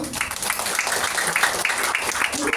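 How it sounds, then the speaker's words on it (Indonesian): A church congregation breaks into applause, many hands clapping in a dense, uneven patter at close, fairly loud level, with a voice faintly present underneath. "Ada tepuk tangan, saudara."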